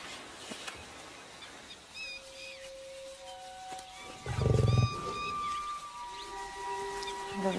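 A lion in the wild lets out a short, deep roar in the middle, heard against an outdoor background with bird calls and other animal sounds.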